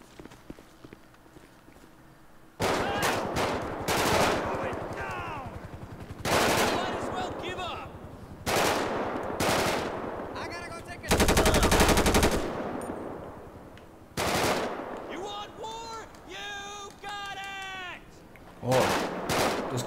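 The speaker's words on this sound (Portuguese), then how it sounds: "Escutando tiro aí fora ainda, hein, pessoal." Repeated bursts of automatic gunfire from the video game GTA V crack loudly in a favela, some sustained, separated by quieter stretches with faint footsteps.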